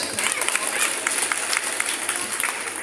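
Audience applause at a company celebration event, a sustained wash of many hands clapping in a crowd, loud and continuous throughout.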